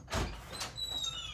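A door opens with a clear click and sliding clunk near the start, followed by a brief scrape and a faint high electronic whine lingering in the background.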